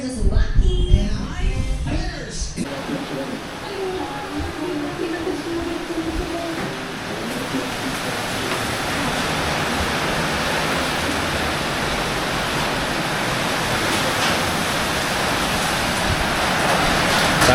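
Rising floodwater rushes close by as a loud, continuous roar of churning water that keeps building, after a brief opening stretch of household noise.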